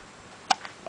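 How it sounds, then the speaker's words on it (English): A baby's single sharp hiccup stands out near the middle, followed by two fainter small catches, against a quiet room. "Maybe he'll get rid of his hiccups."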